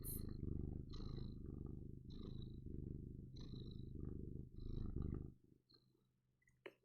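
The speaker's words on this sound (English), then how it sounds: "let me mute the music so you can get the full purring experience" A pet cat purrs up close in a low, continuous rumbling rhythm with regular breathing pulses, fading out near the end as light clicks and rustles take over.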